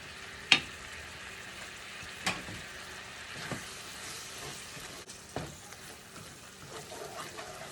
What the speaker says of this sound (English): I have a little over a half of a stick of cream cheese in here that we're going to melt down